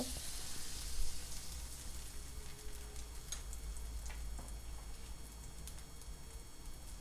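A chocolate sandwich frying in a pan gives a soft, steady sizzle with faint crackles and occasional light ticks, quiet and close, with no voices.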